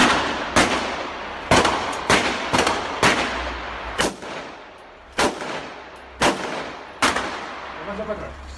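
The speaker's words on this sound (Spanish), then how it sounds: "¡Están tirando tiros!" A string of sharp, loud gunshots cracks out at irregular intervals during an armed robbery in Cangas de Onís, Spain, around nine reports echoing outdoors, with a distant shout near the end.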